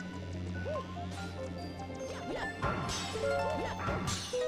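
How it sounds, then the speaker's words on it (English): In Super Mario Galaxy, Mario's ground pound drives tennis balls through glass, giving sharp smashing crashes and thwacks in a busy game scene, with a few close impacts over cartoon whooshes and background game music. "we gotta ground pound them through the glass"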